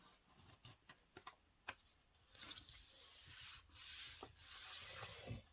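Paper being creased into a fold for a scrapbook album, first a run of small taps and presses, then a steady close rubbing and scraping as the crease is smoothed down, with no voices.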